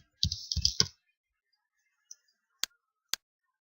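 Computer keyboard in use in Excel: a quick cluster of close key clacks, then a few sharp isolated keystrokes like Enter presses separated by silence.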